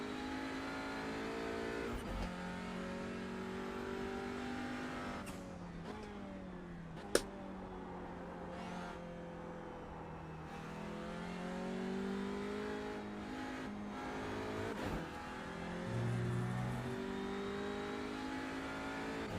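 A touring car racing round Oulton Park in iRacing, its engine droning steadily with rising and falling revs through gear changes and corners, heard alone at moderate level.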